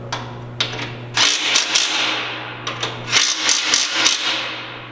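A power tool tightens the bolts of a Khrome Werks slip-on muffler on an M8 motorcycle in short repeated bursts of whirring and rattling impacts, close by, with a steady hum underneath.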